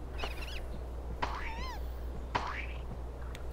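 Cat meowing in the PS1 Harry Potter video game: three short rising-and-bending meows, each opening with a soft thump, over a steady low game hum.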